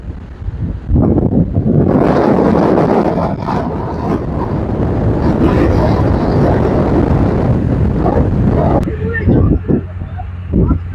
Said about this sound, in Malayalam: ഇപ്പം ഞാൻ ഈ വീഡിയോ എടുക്കുന്ന സമയത്ത് തന്നെ ഇവിടെ ഭയങ്കര കാറ്റാണ്